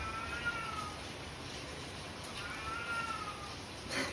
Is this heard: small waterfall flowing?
no